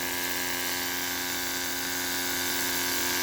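A 3D-printed motor on ceramic bearings spins at high speed, giving a steady, close whirring buzz with an even tone throughout.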